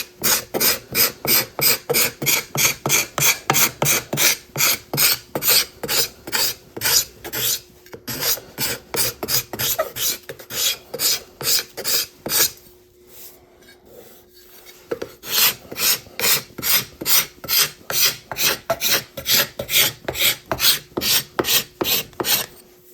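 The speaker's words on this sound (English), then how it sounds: "show you how fast card scraper works to smooth out these rasp" Card scraper pulled in quick, steady strokes across a wooden axe handle made from rived lumber, smoothing away rasp marks; dry, rhythmic scraping up close, with a brief pause midway and no talking.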